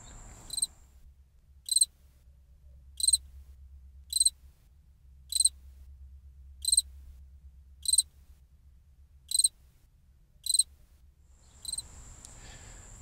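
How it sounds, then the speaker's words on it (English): Crickets chirping in a backyard at night, a single close insect giving short high trilled bursts at a regular pace of roughly one per second, over a faint low hum. "Many people are under the impression that crickets chirp by rubbing their legs together."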